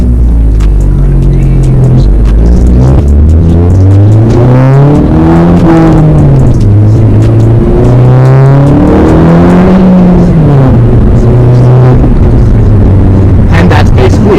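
Low-revving front-wheel-drive inline-four car in a full-throttle pull, the engine note climbing steadily through the gears with loud, sustained droning and rising harmonics heard from inside the cabin.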